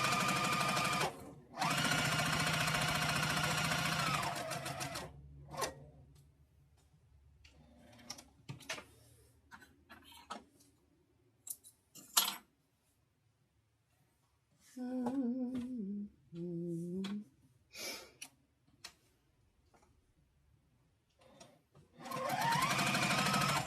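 A sewing machine runs in steady, loud bursts while stitching a quilted zipper case, with a long run at the start, shorter runs in the middle and another at the end, separated by quiet gaps with small handling clicks.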